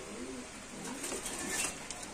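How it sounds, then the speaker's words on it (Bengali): A large Maxi pigeon at a pigeon sale coos softly for a couple of seconds against low background noise, with no one speaking. "11 নম্বর আছে একদম বড় সাইজের মাক্সি কবুতর ভাই"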